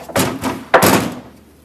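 The steel door of a 1965 VW Beetle comes off during a restoration, giving two heavy, close thuds in quick succession. Each thump has a short, hollow metallic decay.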